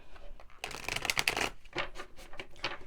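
A deck of tarot cards being shuffled by hand, a run of crisp riffling bursts close to the listener, first one long flurry and then several shorter rhythmic shuffles, with no talking.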